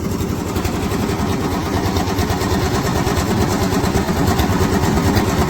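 A farm engine drives a potato grading machine, giving a steady, close, mid-pitched chugging drone that runs without a break and stays even in loudness.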